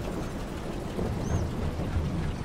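Steady rain falls in Farming Simulator 22 on the Pioneers map, a dense, continuous wash of drops holding an even level throughout with no other sounds.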